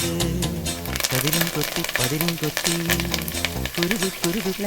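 Curry leaves dropped into hot oil with chopped small onions, sizzling and crackling steadily while being stirred, with music playing over the frying throughout.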